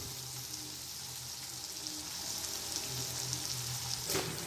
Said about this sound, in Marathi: याला पूर्ण प्रॉपर याला फ्राय करा